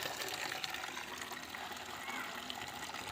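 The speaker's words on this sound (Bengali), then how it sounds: "ছাদে এখন আমি এলাম গাছে জল দিতে" Water gushes steadily from a hose or tap while plants are watered on a rooftop, a continuous splashing rush that stays close and even.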